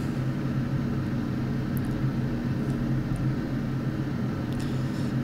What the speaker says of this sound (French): L'avion est parti.